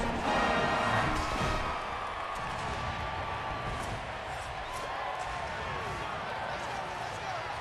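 Stadium crowd noise in the College Football 27 video game, a steady broadband roar filling the whole stretch with a slightly louder opening, under and around a commentator's talk.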